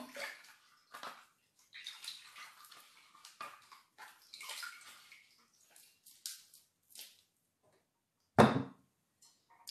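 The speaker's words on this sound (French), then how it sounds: "On va laver notre pomme parce qu'on a besoin de la laver, purifier la pomme, c'est important." An apple is washed under running water, a series of close splashing and trickling bursts ending in a louder clatter, with no speech.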